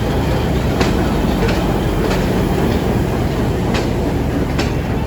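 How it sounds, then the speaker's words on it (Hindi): The Tezgam Express rake of business-class, air-conditioned sleeper and economy coaches is shunted onto the main platform at Rawalpindi station, with a loud, steady rumble broken by evenly spaced clickety-clack wheel beats over the rail joints. "तेज़गाम एक्सप्रेस का रेक प्लेस किया होने जा रहा है"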